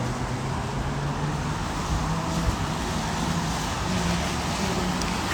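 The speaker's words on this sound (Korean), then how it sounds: "차 소리 때문에 목소리 잘 안 들리겠다" Steady roadway traffic on a street in light rain, a continuous broadband roar of passing cars holding at a constant level for the whole stretch, with no voices over it.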